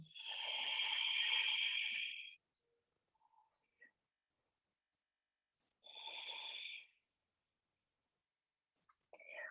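A big, long exhaled breath during a yoga pranayama practice, heard as a sustained breathy rush close to the mic, followed after a pause by a second, shorter breath.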